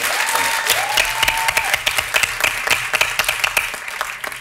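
A television studio audience on a Turkish late-night talk show claps steadily and loudly throughout, a dense close applause with distinct individual claps and no speech.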